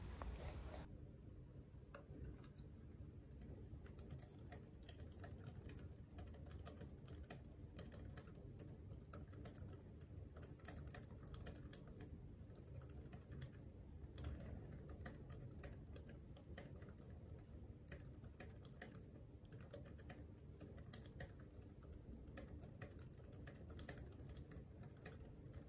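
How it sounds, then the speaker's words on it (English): Typing on a pink Logitech K380 keyboard, a steady stream of soft, close key clicks and taps running continuously with no talking. "let you guys hear how the typing sounds like on the pink K380 keyboard"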